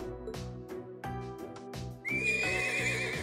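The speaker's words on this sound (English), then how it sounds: "Hi there, pretty horse." A horse in the video game Trails of Cold Steel neighs once with a loud, close whinny, preceded by several rhythmic clip-clopping hoof steps and backed by a steady musical score.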